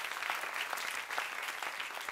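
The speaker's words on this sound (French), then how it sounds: "Vous pouvez déjà vous applaudir." An audience applauds at an awards gala for excellence prizes, a soft, continuous wash of many hands clapping at a distance with no voices over it.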